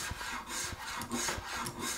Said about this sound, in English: Just listen to that sound of the spoke shave slicing through the wood